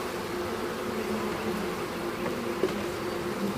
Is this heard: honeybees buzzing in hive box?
yes